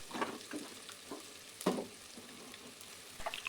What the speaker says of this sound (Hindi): इसे थोड़ा सा फ्राई करेंगे।